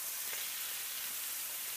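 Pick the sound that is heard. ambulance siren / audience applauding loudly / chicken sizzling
chicken sizzling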